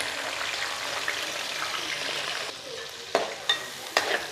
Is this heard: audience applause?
no